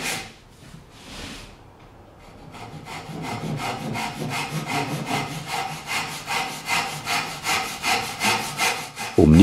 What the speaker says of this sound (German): Mit der Dosuki werden die Flanken des Schlitzes eingeschnitten.